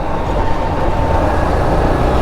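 A train rolls past a railway crossing on the Nepal–India border, a loud, continuous rumble and rattle close by that fills the whole stretch without any talk.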